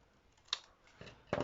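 Scissors cutting paper to size for a junk journal with sewn signatures, giving three quick, quiet snips spaced apart, each a short crisp burst against a hushed room.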